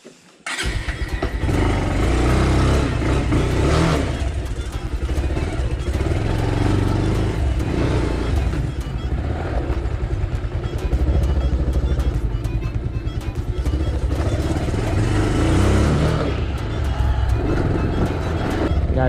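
A Bajaj Pulsar 220F motorcycle engine running out of petrol, with a loud, close, continuous rumble that wavers and stutters unevenly for about twenty seconds.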